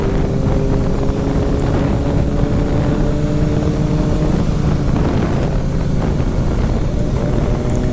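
A Ducati 1199 Panigale S motorcycle engine runs steadily while riding, a loud continuous drone with harmonic engine tones, mixed with heavy wind rush across the microphone throughout.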